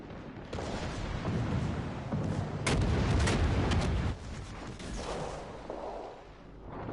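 Warship guns firing during a naval battle in the World of Warships video game, a rolling series of heavy booms and blasts with rumbling low-end, strongest in a loud mid-clip volley before settling into background battle noise.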